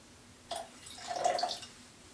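Pineapple juice being poured into a cocktail, a short splash followed by a steady trickle of liquid lasting about a second, close and fairly quiet.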